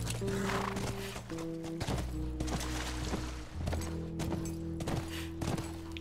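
Horse hooves clop repeatedly in The Last of Us, with uneven thudding footfalls over a loud steady hum of game music and ambience.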